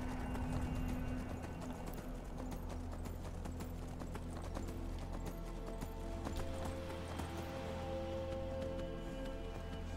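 Hooves of a horse galloping steadily in the video game Skyrim, a rhythmic clip-clop running throughout over a constant low game ambience, with no talk.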